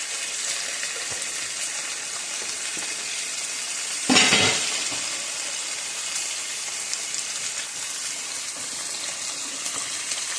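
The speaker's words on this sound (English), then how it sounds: "Got a nice sear." Beef pieces for tacos searing in a hot pan, a steady close hiss of sizzling fat throughout, with one louder burst of spatter and stirring partway through.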